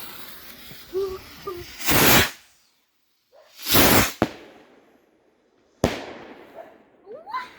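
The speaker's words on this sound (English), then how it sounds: "Last two Aurora Rockets." Aurora Rocket fireworks launching outdoors at a family fireworks display: loud hissing whooshes swell and cut off, followed by a sharp bang, with faint voices and chirps between.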